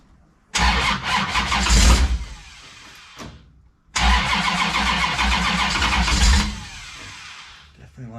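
A 1971 Plymouth Duster big block V8 cranks and fires up twice, each time roaring loudly near the mic with a rough, lumpy rumble, then dying away, with people talking around it.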